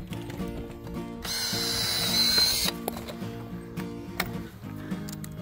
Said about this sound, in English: I drill them because even though they're self-drilling screws, they can split the timber.